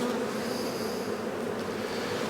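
Honey bees crowd hive frames with a dense, steady buzzing hum, close and continuous, with no voices.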